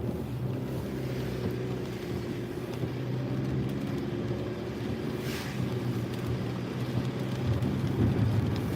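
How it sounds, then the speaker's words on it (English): Heavy rain falls steadily outside a vehicle driving through a residential neighborhood near Puget Sound, a continuous loud wash blended with engine and road rumble. "it's raining like hell, for one"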